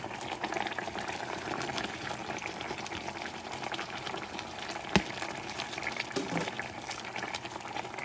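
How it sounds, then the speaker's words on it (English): Fish in tomato sauce simmering in a pot over medium heat, giving a steady close bubbling and sizzling with one sharp clink partway through, no talking. "Lower the heat to like medium, a notch above medium. You're going to let it simmer."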